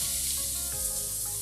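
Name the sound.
onions and garlic sizzling in frying pan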